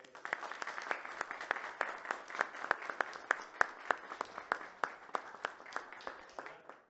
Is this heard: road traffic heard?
no